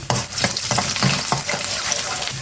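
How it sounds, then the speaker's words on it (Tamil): Onion, green chillies and curry leaves frying in hot oil while being stirred, a continuous close sizzle with repeated scraping stir strokes, cooking for an egg rice dish. "ஒரு பெரிய வெங்காயம் நாலு பச்சை மிளகா கொஞ்சம் கருவேப்பிலை தளம் பாருங்கள் நல்லா செவக்கட்டும்"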